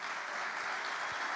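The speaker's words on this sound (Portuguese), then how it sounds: "Dê uma forte salva de palmas para Jesus agora" Church congregation applauding together, a dense steady wash of clapping that holds evenly from start to finish with no voices over it.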